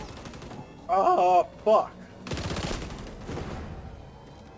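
Shotgun fire in the shooter game XDefiant: a short spoken exclamation, then a burst of loud, harsh blasts that rings on as a decaying rumble.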